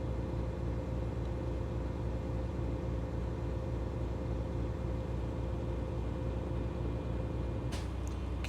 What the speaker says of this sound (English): we heard the purge sound and the gauges stop going up